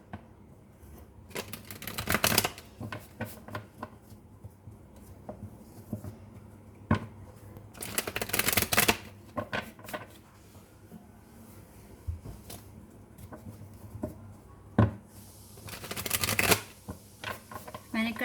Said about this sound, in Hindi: मैंने कर लिया है कार्ड्स को शफल